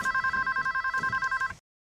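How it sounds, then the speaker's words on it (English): A telephone bell trills in rapid pulses of a steady two-tone ring, loud and close, then cuts off abruptly into silence. "he receives an important phone call from his brother, Sean."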